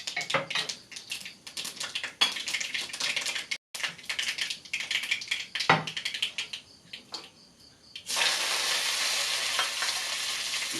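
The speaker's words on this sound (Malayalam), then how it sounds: "കടുക് വളരെ സാവധാനത്തോടെ ഈ എണ്ണ തിളച്ച എണ്ണയിലേക്ക് ഇടുകയാണ്" Mustard seeds hit boiling oil for a Kerala banana flower curry, crackling in dense, irregular rapid pops that drop away briefly, then settle into a loud, steady hissing sizzle near the end.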